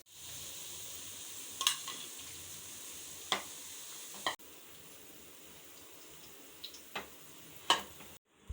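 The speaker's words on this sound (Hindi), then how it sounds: "हमने लिया है आधा किलो चिकन और इसे भी हम फ्राई कर लेंगे।" Half a kilo of chicken fries in oil with a steady, fairly faint hiss. A few sharp clacks of a utensil break in, the sizzle drops quieter midway, and it ends in a brief silence.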